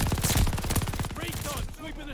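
MG42 machine gun in Call of Duty Vanguard firing a fast, buzzing burst of rounds, loud and close, then tapering into scattered shots and game effects.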